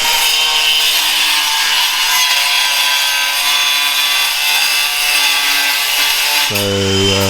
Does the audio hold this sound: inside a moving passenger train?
no